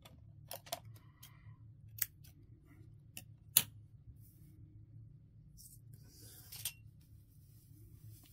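Scissors snip through yarn while finishing a crocheted Halloween ghost scrubber: a few sharp, quiet clicks spaced over several seconds, close by, over a low steady room hum.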